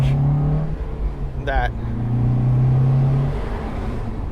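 A Fiat 124 engine that revs to 8,000 RPM holds a loud, steady, buzzy tone that rises and falls through the revs, with a brief voice breaking in near the middle.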